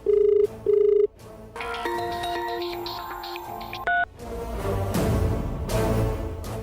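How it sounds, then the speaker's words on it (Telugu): A telephone rings in a domestic drama scene, starting with two short, loud electronic ring bursts, then a longer melodic ringtone pattern that ends abruptly, followed by quieter background sound with no talking. "నీకు ఫోన్ వస్తుంది చూడు."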